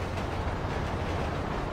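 A train rumbling past in GTA V, a steady low roar of wheels and carriages filling the short stretch without pause, loud and close, with no voices over it.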